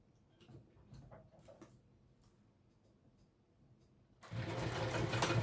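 A sewing machine kicks in loudly near the end, basting stitches at a long stitch length onto a small fabric wristlet, after a quiet stretch of faint ticking and handling.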